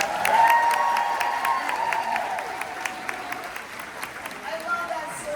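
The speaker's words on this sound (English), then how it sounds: "Can we give Mr. On a big round of applause" A convention audience in Las Vegas claps steadily for about five seconds, a broad wash of many hands at moderate volume with scattered cheers, no talk over it.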